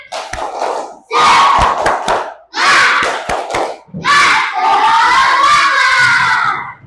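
A classroom of children shouts the rhythmic 'tepuk semangat' chant in loud bursts, with sharp claps punctuating the phrases and a long drawn-out cheer closing it.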